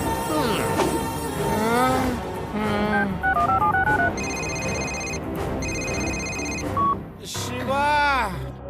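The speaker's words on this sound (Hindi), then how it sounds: "शिवा को फोन करना पड़ेगा" Short electronic keypad tones of a telephone being dialed beep in a quick stepped sequence amid a busy soundtrack with voices and music from the cartoon Motu Patlu.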